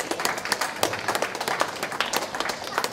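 Audience applause during a speech, a continuous patter of many hands clapping at moderate loudness with no voices over it.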